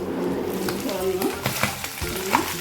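Mutton pieces frying in butter sizzle briskly as they are stirred, with scraping strokes and a wavering tonal sound like a voice in the background.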